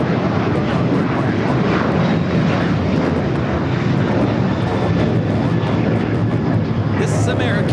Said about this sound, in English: American Airlines 2043 taking off to Dallas Fort Worth on the 737-800